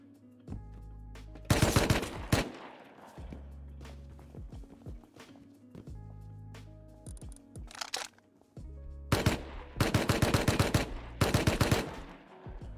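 Gunfire in the video game Rust on a snowy map, heard as loud, close bursts of rapid shots alternating with single cracks and pauses, set over low ambient hum and occasional clicks.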